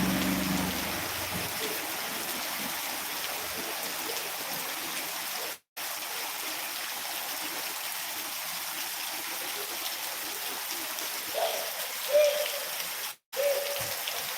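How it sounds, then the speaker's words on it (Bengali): Steady, heavy rain with hail hisses continuously, broken twice by brief cutouts, with a faint voice murmuring near the end. "অনেক বৃষ্টি হচ্ছে অনেক বৃষ্টি প্রচুর পরিমাণে বৃষ্টি"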